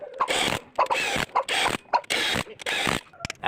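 A ratchet tightens engine head bolts on a 2014 Ford Everest being repaired for overheating, giving repeated bursts of close, loud clicking, each lasting a fraction of a second, with short pauses between strokes.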